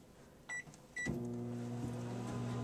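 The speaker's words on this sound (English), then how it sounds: "the mystical microwave taking its time" Microwave oven humming steadily after a door click and brief beeps, a loud continuous drone with tonal hum that runs to the end, no talking.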